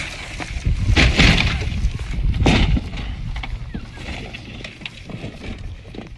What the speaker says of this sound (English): It's one of the biggest accidents of the season.